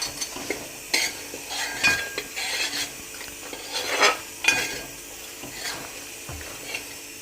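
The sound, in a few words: pickle frying in pan with chilli powder added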